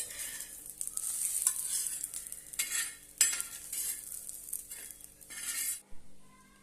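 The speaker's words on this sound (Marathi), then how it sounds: "आता आपल्या मिरच्या भाजून झालेल्या आहेत आता आपण काढून घेऊया" Roasted green chillies being scraped and stirred out of a hot pan, with bursts of sizzling and utensil scraping in uneven strokes, fading near the end.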